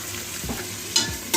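Capsicum and carrot frying in a pan for masala paneer Maggi noodles, a soft steady sizzle broken by a few louder stirring scrapes and clatters near the end.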